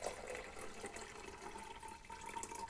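Water running into a mixing vessel as one-shot film developer is topped up with water to a working dilution, a steady soft pouring wash that carries on evenly with no voices.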